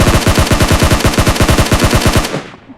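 Automatic gunfire in the mobile battle royale game PUBG Mobile on the Erangel map, a loud rapid burst of about twenty evenly spaced shots that stops abruptly and leaves a short fading tail.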